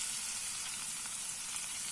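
Flour roasts in melted, salted homemade butter for a roux. An even, bright sizzling hiss holds at a constant level for the whole moment.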